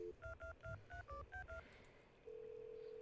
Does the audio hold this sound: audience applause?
no